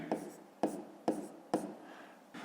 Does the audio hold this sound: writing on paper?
yes